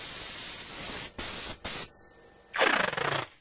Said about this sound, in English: spray it in black, the rough outline